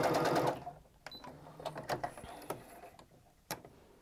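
A sewing machine backstitching sweater fabric whirs loudly for a brief moment, then gives way to scattered light mechanical ticks and clicks.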